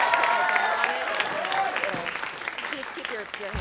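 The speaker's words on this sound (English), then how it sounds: "Can we have a round of applause for this fan fiction" Live audience clapping for a fan fiction reading, a fairly loud burst of applause that gradually thins out, with voices chattering over it.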